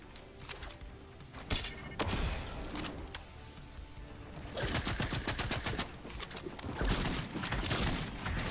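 Lever action shotgun fire in a video game firefight, with several sharp loud blasts and crashing impacts amid busy game noise, the shots coming in irregular bursts.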